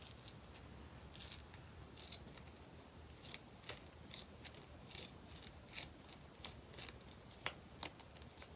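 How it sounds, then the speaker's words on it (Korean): Scissors snip through fabric-backed sports tape in a series of short, crisp cuts that grow busier toward the end, close and fairly quiet over a steady low background hum. "요 스포츠 테이프를 잘라줍니다"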